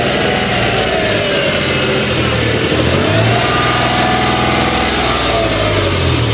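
A Mitsubishi Mirage G4 with a worn clutch disc and sluggish pickup revs loudly and continuously up close, its engine note rising and falling with no talking.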